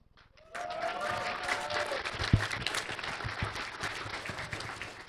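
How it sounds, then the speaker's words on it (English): Applause breaks out after a brief silence at an opening speech, many hands clapping steadily from an audience and continuing without letting up. "I think that deserves a warm applause."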